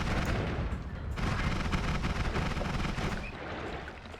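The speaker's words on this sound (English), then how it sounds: "how did we manage to make the accidental super machine gun?" Rapid, accidental super machine gun fire in the video game Noita, a dense, continuous roar of shots and bursts that fills the whole stretch with little let-up.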